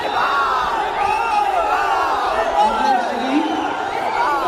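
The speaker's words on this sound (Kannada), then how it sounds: "ನಿಮ್ಮ ಕೂಗು, ನಿಮ್ಮ ಮಾತು, ನಿಮ್ಮ ನಗು, ನಿಮ್ಮ ಚಪ್ಪಾಳೆ" An audience at a film clip launch event cheers and shouts, with loud overlapping whoops and yells from a large crowd that carry on steadily throughout.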